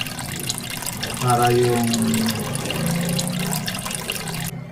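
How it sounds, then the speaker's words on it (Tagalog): Water runs into a cooking pot for chicken tinola with papaya, a steady splashing pour whose tone shifts as the pot fills, while someone talks over it. "Tapos lalagyan natin siya ng tubig"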